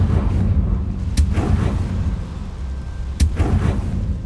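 The Confringo fire spell explodes in Hogwarts Legacy as two heavy booms, loud and close over a dense rumbling roar.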